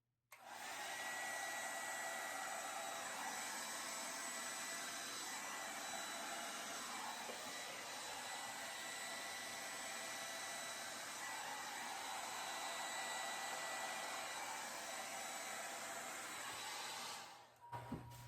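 A hair dryer blows steadily over wet acrylic pour paint on a canvas, a close, constant whooshing roar lasting nearly the whole time before it cuts off at the end.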